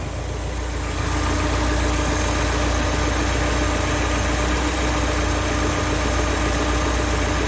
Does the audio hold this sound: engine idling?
yes